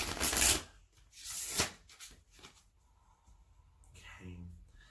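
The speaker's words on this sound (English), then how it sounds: "let's give it one more good shuffle here" Oracle cards of the Crystal Healing Oracle deck being shuffled by hand: two loud riffling bursts near the start, then softer rustling and card handling with a faint voice at the end.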